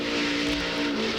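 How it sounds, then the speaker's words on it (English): A NASCAR truck engine at a race in Las Vegas, a steady loud droning roar with a slight rise and dip as the throttle is worked, heard continuously without voices. "Hear him, Doc, jumping that throttle to keep that truck from backing up into the outside wall."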